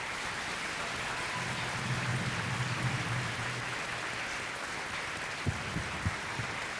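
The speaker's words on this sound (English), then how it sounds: "Let's give these guys a round of applause." An audience in a school program honouring veterans on Veterans Day applauds, producing a steady wash of clapping at moderate distance that continues throughout, with a few louder thumps near the end.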